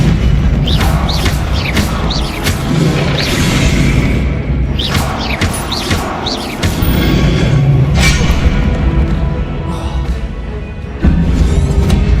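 Bombarda and Confringo spells explode in Hogwarts Legacy gameplay, a loud, dense barrage of booming blasts with whooshes and crashing debris, close and continuous over game music, with no audible talk.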